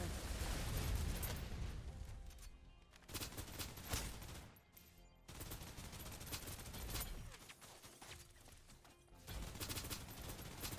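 Sustained bursts of suppressive automatic gunfire rattle in Snowbreak: Containment Zone, dense loud volleys broken by a few short pauses, with no voices over the shooting.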